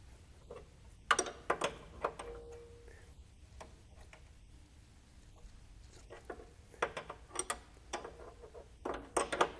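A spanner tightening a leaking fitting on a 1948 Rover P3 makes close, quiet metallic clicks and ratcheting ticks in short irregular bursts, with pauses between.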